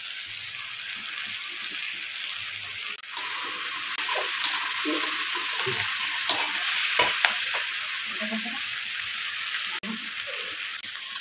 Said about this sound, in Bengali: এবারে দিয়ে দেওয়া হলো রসুন। কাঁচা লঙ্কা দিয়ে দেওয়া হলো